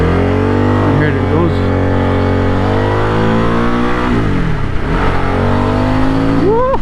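Steady loud engine roar from a 2023 Harley Davidson Sportster S 1250cc motorcycle in street mode, pitch climbing through several acceleration sweeps with a dip and a rising rev at the end.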